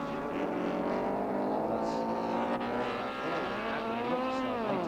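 Racing sidecar engines at the 1987 New Zealand Sidecar Grand Prix scream loudly and continuously, their pitch rising and falling through gear changes as several machines run close together on the circuit.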